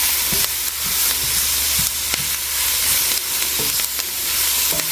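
Charred vegetables sizzle steadily in a hot soup pot over high heat, a dense, continuous frying hiss with occasional stirring scrapes and clicks, close and loud with no talking.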